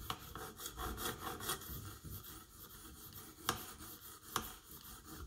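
A knife is worked on a sharpening stone in a KME precision kit, giving quiet, uneven gritty rubbing strokes with a few sharper scrapes and clicks.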